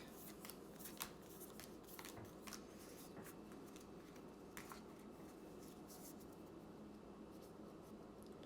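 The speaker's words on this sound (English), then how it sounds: "we'll shuffle this bad boy together" A deck of Kingdom Death: Monster cards is shuffled by hand, giving faint, close riffling and papery card snaps in irregular bursts over a steady background hiss, with no talk.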